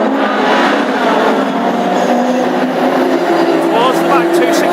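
Classic hot rod race cars circling an oval track in a heat at Ipswich, engines droning steadily and loud with shifting pitch, while a commentator talks continuously over the racing.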